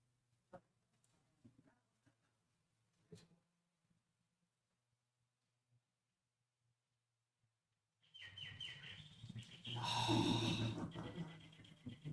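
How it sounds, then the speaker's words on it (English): Bird calls play from an opened sound book inside a church, a loud burst of chirping that follows several seconds of near silence broken by faint knocks. "we've got a magical book that when you open it, you hear the sound of a bird"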